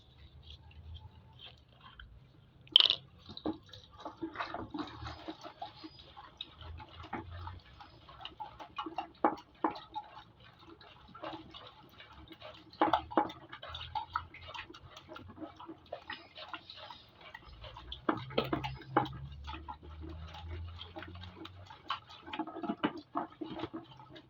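Homemade chloroxylenol disinfectant mixture being stirred in a container, a long run of small irregular clicks and liquid ticks against the vessel, close and fairly quiet, with occasional louder knocks.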